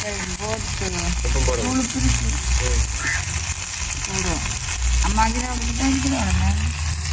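Tomato slices sauté in a hot pan in a Jaffna home kitchen, giving a steady, close sizzle and crackle throughout while people talk over it.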